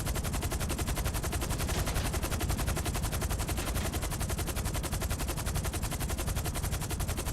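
Dense, continuous automatic gunfire from helicopters attacking a vehicle in Grand Theft Auto V, a loud rapid rattle that holds steady throughout with no voices.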